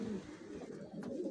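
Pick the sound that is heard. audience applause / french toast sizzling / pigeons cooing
pigeons cooing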